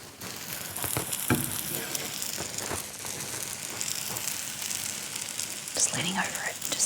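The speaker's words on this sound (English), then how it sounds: "Can you hear the sizzles?" Fish or chicken frying in a pan with butter or oil, sizzling steadily and close up with a bright crackling hiss throughout and a faint voice briefly in the background.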